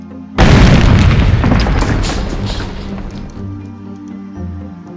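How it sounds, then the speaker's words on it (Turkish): A tower in a video game explodes with a loud, deep burst that comes in suddenly, then rumbles and crackles as it slowly decays over several seconds, with no other sounds. "Cidden tüm kule ben gelince mi patladı yani?"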